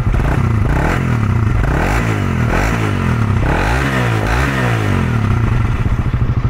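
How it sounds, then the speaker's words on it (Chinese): A stock Suzuki Raider R150Fi 150cc motorcycle with original, unmodified exhaust idles up close, its engine running steadily with a few quick revs rising and falling, loud and continuous throughout. "我们现在来听一下它的引擎声。"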